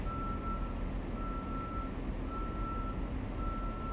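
A reversing truck sounds evenly spaced electronic beeps from a distance, steady and repeating over a constant low rumble of outdoor noise.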